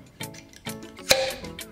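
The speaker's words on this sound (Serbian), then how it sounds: "Sad ću teglu otvoriti." A home-canned meat jar lid pops once as it is opened, a single sharp, clear snap near the middle, with faint knocks and handling noise around it and no talk.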